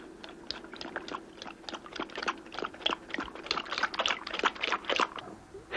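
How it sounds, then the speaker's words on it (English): Rapid wet lapping and slurping, a quick irregular rhythm of tongue strokes close by, growing busier toward the end. "we've slowed down the action of a dog drinking"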